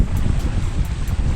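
Strong wind buffets the microphone at a windy beach on the Eyre Peninsula, a steady loud roar with heavy low rumble and no voices.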